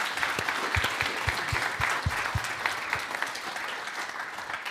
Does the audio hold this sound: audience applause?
yes